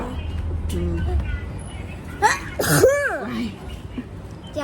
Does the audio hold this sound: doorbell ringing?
no